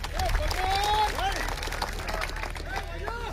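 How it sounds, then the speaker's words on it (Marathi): Crowd applause rises at a traditional kusti wrestling match held in an earthen arena during a village temple fair, with dense clapping mixed with shouts and whistles, loud and continuous throughout. "कराय की टाळ्या मंडळी त्याच्यासाठी"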